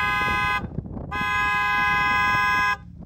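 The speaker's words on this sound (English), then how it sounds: "Let's hear the British horn." A McLaren 765LT car horn sounds loud and close in two blasts, a short toot followed by a longer sustained honk, with no talk over it.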